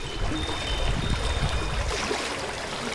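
A small creek under a tiny bridge in a small town flows with a steady broadband rush and soft gurgling, moderately close and continuous, with no voices present.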